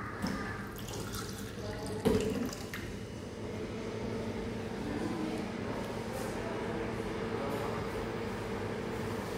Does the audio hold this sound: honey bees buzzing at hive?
no